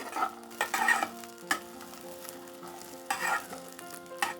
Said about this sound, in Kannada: ನಾವು ಇದೇ ರೀತಿ ಫ್ರೈ ಮಾಡ್ತಾ ಬರಬೇಕು